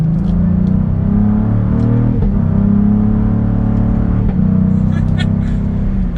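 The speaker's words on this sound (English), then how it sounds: "We get some deep low rumbles on the downshifts and slowing down." 2022 Cadillac CT4-V Blackwing on a test drive gives a deep, continuous exhaust rumble that swells and dips with shifts, heard close and loud throughout.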